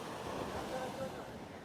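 Sea waves on the beach at Maruthamunai, Sri Lanka, where the sea has come close to the road, give a steady faint wash of surf mixed with wind noise on the microphone.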